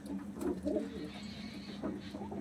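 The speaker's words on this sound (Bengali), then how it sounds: "এটা অরিজিনাল ম্যাগনেট ব্রিডের পায়রা" A black Magnet-breed pigeon coos in soft, repeated low bursts, close by, with no talking.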